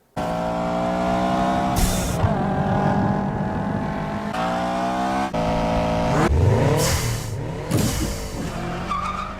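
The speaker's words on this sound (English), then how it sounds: "the Eclipse sounds like it has a Subaru Boxer motor with unequal length headers" A Mitsubishi Eclipse car engine revs hard and repeatedly, rising and dropping in pitch with a burbly, uneven exhaust note like a Subaru boxer with unequal length headers, loud and close, with brief tire squeals.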